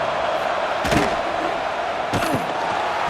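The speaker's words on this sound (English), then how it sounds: "The crowd really making some noise now, trying to help out this defense to get this stop near the goal line." Football stadium crowd at a CFL game, Montreal Alouettes at BC Lions, roaring in a broad steady wash near the goal line, with two sharp louder surges of noise.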